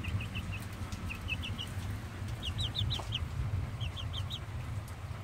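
A small chicken clucks nearby in short, quick bursts of three or four high notes, repeated several times over a steady low background rumble.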